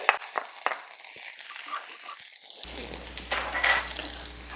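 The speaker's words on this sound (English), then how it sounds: "This is a nice hot pan. Put some garlic." Garlic dropped into a hot pan of extra virgin olive oil for clams Bulhão Pato crackles and hisses, a steady close sizzle that swells with a brief rustle partway through.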